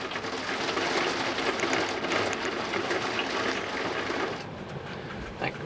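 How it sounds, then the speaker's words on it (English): Heavy rain pours steadily outdoors, a dense continuous hiss loud throughout, easing slightly near the end. "Goodness, raining outside."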